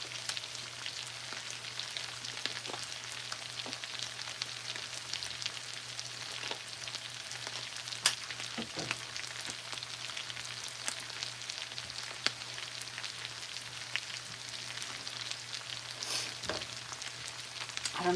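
Food frying in a pan gives a quiet, steady sizzle with crackling and small pops, holding at an even level throughout with a faint low hum underneath.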